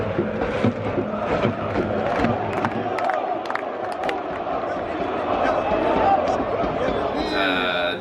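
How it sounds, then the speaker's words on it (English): A football crowd at a GNK Dinamo Zagreb stadium match chants and roars steadily, dense and loud, with sharp claps and thumps cutting through and a voice speaking over the din. "There was an awesome crowd, people just sort of chanting,"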